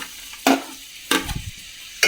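Onions (two) tossed into hot oil in a pan for samosa filling, heard as three distinct scraping, sizzling bursts of stirring spaced about half a second to a second apart, fairly close with quiet gaps between.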